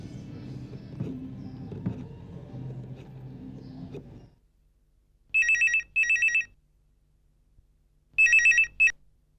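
A telephone rings in two bursts of double trills, clear and fairly close, after several seconds of low rumbling room noise and a stretch of near silence.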